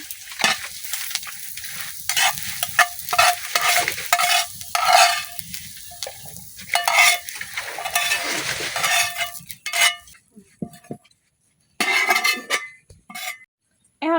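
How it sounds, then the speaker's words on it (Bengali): Onion and garlic frying in oil in a village kitchen for a salted hilsa mash, stirred with a utensil; a steady sizzle with scraping strokes and pan clinks, fading to near silence in the last few seconds except brief clinks. "পেঁয়াজ আর রসুনটা আমি সুন্দর করে বাজিয়ে দিলাম"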